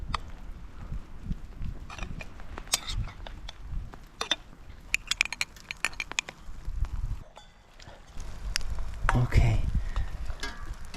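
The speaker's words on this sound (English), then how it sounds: "now we just need to mix it all together" Camping bread pudding batter with milk being stirred and mixed outdoors, irregular clinks and scraping strokes against a container, fairly close, with a brief spoken word and some background movement.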